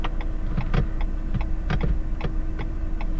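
Electric parking brake engaging in a Renault Captur: a steady low motor hum with a series of irregular mechanical clicks and ticks, close up in the quiet cabin, no talking.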